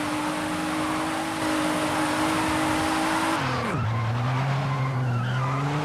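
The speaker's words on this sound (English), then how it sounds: "Car returns to low RPM on fourth gear, and it loses the needed RPM to drift." A Nissan 370Z drifting in fourth gear in Forza Horizon 5: a steady loud engine drone under continuous tire skidding, then the revs drop sharply and settle lower as the squeal continues.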